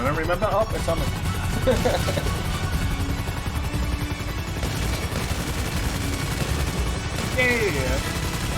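Rapid gunfire and booming explosions from a video game rattle on continuously, with voices talking over the chaotic battle noise.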